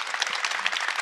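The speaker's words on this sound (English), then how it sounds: "Join me in giving our panelists on stage and online a warm round of applause" Warm, steady audience applause for panelists at a water communications session, dense and close, filling the whole brief moment with no talk over it.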